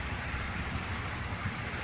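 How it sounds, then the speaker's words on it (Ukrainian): Steady evening rain patters continuously in Saltivka, Kharkiv, a dense even hiss without pauses or voices. "Тут вам і дощик."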